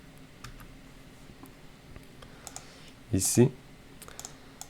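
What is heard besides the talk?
typing on a computer keyboard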